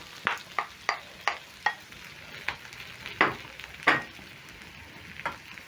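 Sausage and mushrooms frying in a pan, a soft background sizzle broken by a series of sharp, close scraping strokes of a utensil stirring, about ten in all.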